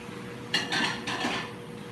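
Several metallic clanks and scrapes of a frying pan being handled, close by, in a short burst with no talking.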